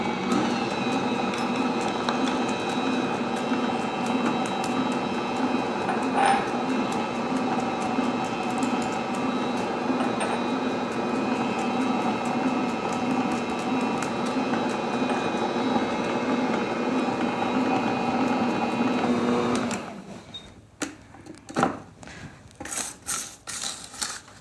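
Electric mixer beating sugar cookie dough in a home kitchen, a steady mechanical whir with a low rhythmic churn running for about twenty seconds, then cutting off, followed by a few brief clatters and knocks.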